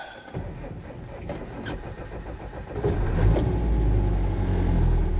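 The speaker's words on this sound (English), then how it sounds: "Starts nicely. And settles down." A 1989–1990 Land Rover 110 with a 2.5 turbo diesel cranks and fires up about three seconds in, then runs steadily into a loud, rough idle close by.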